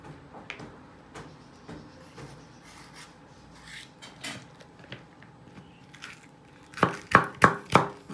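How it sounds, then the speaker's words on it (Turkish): Two garlic cloves being chopped with a knife on a cutting board, quiet scraping and tapping at first, then a close run of four or five sharp, distinct chops near the end. "Tabandan lezzet versin diye iki diş de sarımsak doğruyorum."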